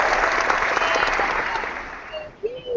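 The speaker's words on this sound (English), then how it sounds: "Will you clap for Marissa?" An audience claps loudly in a dense, continuous wash of applause that gradually thins and fades near the end, with a few faint voices and cheers breaking through as it dies down.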